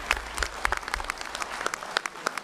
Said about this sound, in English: Yeah, I think that deserves a round of applause.